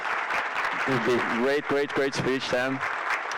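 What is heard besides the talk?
applause for a speaker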